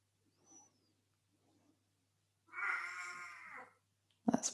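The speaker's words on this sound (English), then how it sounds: "That's my cat who's joined us today." A house cat meows once, loud and drawn out, near the middle, after faint soft sounds and before a sharp louder noise near the end, in an otherwise quiet room.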